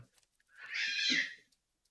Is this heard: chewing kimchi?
no